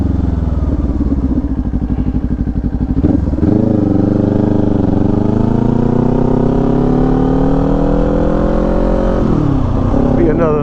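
A motorcycle cruises along Bayhead Road, its engine note climbing steadily through a long pull before easing off, with wind buffeting throughout and a shift near the start.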